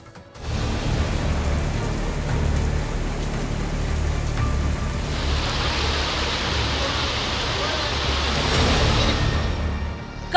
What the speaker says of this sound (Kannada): ಬೆಂಗಳೂರಿನಲ್ಲಿ ಇವತ್ತು ಸುರಿದಂತಹ ಮಳೆ ಹಲವು ಕಡೆಯಲ್ಲಿ ಅನಾಹುತಗಳನ್ನು ಸೃಷ್ಟಿಸಿದೆ